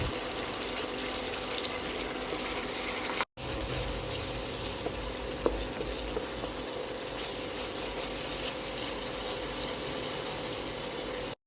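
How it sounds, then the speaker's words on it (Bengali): A spice paste of cashew, tomato and cumin is fried in hot oil, giving a dense, steady, close sizzle that runs continuously, broken only by a brief gap. "পেস্টটা দিয়ে দিচ্ছি তেলের মধ্যে। দেওয়ার পরে এটা ততক্ষণ পর্যন্ত কষাবো"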